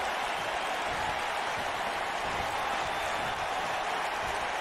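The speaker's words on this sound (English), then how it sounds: "Crowd's all pumped up for this match." Wrestling arena crowd in WWE 2K19 roaring steadily as a dense, continuous wash of cheering and applause, loud and unbroken throughout with no distinct voices standing out.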